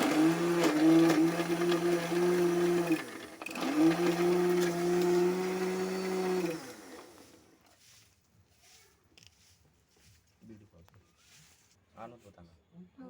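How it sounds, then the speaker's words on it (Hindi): A mixer grinder blending giloy leaves into juice whirs in two loud, sustained bursts with a short pause between them, then cuts off, leaving quiet room sounds and a few faint noises. "और इसका जो है फिर से हम मिक्सर पे"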